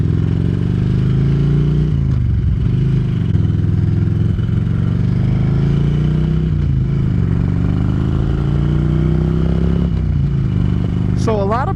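A motorcycle rumbles loudly and steadily while being ridden, its engine note rising and falling with changes in speed, with clatter and a voice speaking over it.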